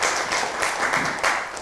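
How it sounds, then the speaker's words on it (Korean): Dense applause from an audience at a Korean rural research forum, greeting a village research institute presenter with steady, fairly close clapping throughout. "박수로 환영해 주십시오"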